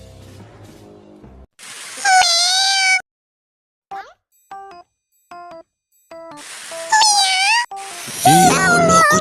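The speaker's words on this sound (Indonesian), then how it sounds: "kucingnya imut banget" Cats meowing in the Minecraft video game, several high drawn-out meows with short chimes between them, loud and close, with a short stretch of other sound at the start.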